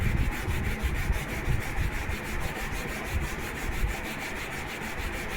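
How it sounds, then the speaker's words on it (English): A sanding block is drawn over a balsa wood model aircraft wing at a steady angle, making a continuous, close, rhythmic rasping of quick, even strokes with no talking. "Continue sanding till you reach the bottom of the wing."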